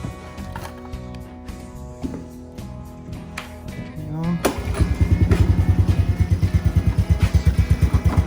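A Honda TRX90 ATV engine, freshly serviced with a cleaned carburetor and new oil, catches after a few seconds of quiet clatter and settles into a loud, steady, rhythmic idle close by.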